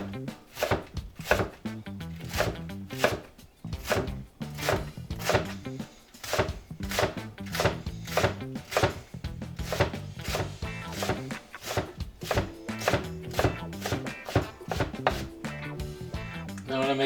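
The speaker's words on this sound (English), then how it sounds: "So I'm just holding on, and I'm just gonna slice straight down." A knife slices straight down through a leek on a cutting board, a fast, steady run of close, crisp chopping knocks repeating for the whole stretch, with no one talking.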